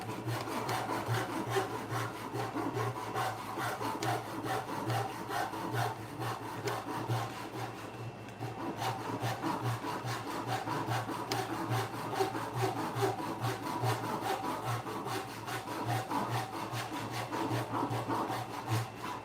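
Hand saw cutting through wood in a home workshop, steady rhythmic rasping strokes close by that go on without a break and without talk.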